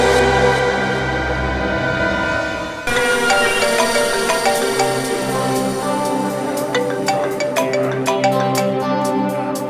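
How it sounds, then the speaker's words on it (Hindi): Mobile phone ringtone of an incoming call, a bright repeating electronic melody that starts abruptly after a few seconds of background music and rings steadily and loudly to the end, with no talk over it. "सुबह सुबह महक का फोन।"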